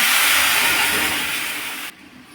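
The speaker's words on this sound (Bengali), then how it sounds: "পেঁয়াজ রসুন ভাজা হয়ে গেছে, এবার ডালটা দিয়ে দিলাম এর মধ্যে" Lentils tipped into a pan of hot oil with fried onion and garlic give a loud, close burst of broad sizzling that fades slightly before cutting off abruptly near the end.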